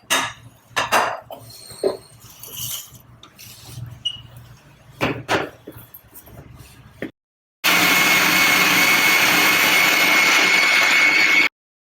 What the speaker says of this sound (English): The tomatoes and tamarind have been ground into a paste here.